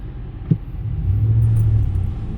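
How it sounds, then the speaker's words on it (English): A 1998 Ford F-150 4x4 short-bed pickup with a 4.6L V8 and higher mileage drives along with a loud, steady low engine rumble, heard close from inside the cab. "just drive around a minute, go through some gears"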